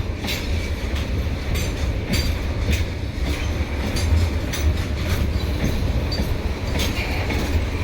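A long train rolls past at close range, picking up speed, its wheels clattering in a steady rhythm of repeated clacks over a heavy rumbling roar that never lets up.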